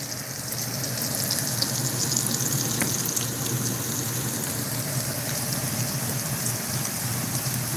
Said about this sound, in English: Yeah, we've got some good boiling going on.